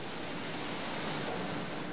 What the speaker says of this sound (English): a dousing in a high-speed jet of water. The process is called descaling. The steel is so hot, the water literally explodes on contact.